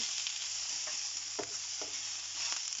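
Shrimp and glass noodles stir-frying in a pan with little oil, a soft continuous sizzle broken by a few scraping stirs of a utensil, close and steady with no talking.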